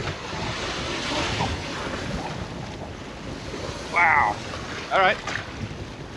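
Strong wind roars over a lake during an approaching storm, with white caps and choppy waves, a loud constant rush of wind buffeting close by while a man briefly exclaims.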